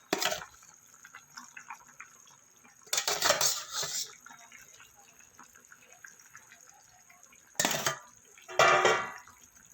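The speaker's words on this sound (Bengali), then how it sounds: "ভেজে রাখা মাছগুলো দিয়ে দেবো।" Fried rohu fish pieces dropped into a pot of boiled potatoes and ridge gourd, heard as a couple of short clattering bursts of metal and splashing against a quiet kitchen background.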